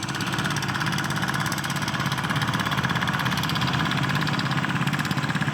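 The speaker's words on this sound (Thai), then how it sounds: "เสียงรถยีแตนไหมครับ สะใจจริงๆ ด้านหลังผมนี่แหละ" A small walking tractor engine chugs steadily at idle in a rice field, a continuous rhythmic knocking with no pauses or voices.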